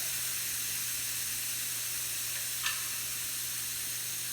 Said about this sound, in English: you can hear the air coming out of the valve stem at that point in time